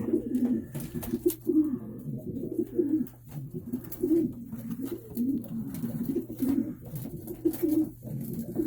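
Pigeons coo continuously in soft, low, repeated throaty phrases that overlap one another. A steady low hum sits underneath, and no one speaks.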